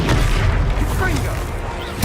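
A Confringo blasting spell from Hogwarts Legacy lands as a deep boom and blast inside a constant roar of combat, with voices speaking over it.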